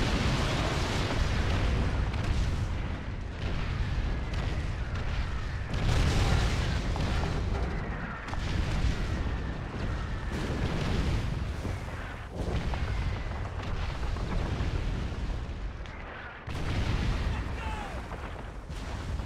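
Heavy, continuous bombing explosions rumble in Call of Duty 2: Big Red One, with booming blasts and gunfire layered in a dense, loud wartime din, while a voice talks over the barrage.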